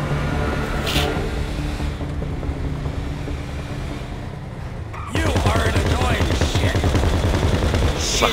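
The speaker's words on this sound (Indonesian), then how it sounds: "Yang ada ini NPC kita nembakin zombie, balik nembakin musuh gitu." Computer-controlled characters firing guns at zombies around a base in a GTA 5 zombie survival game, dense rapid automatic gunfire rattling without pause, growing louder about halfway through amid other game noise.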